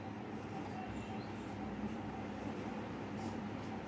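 A train passing at a steady distance, a continuous rumbling roar with faint wheel rattle throughout, no speech.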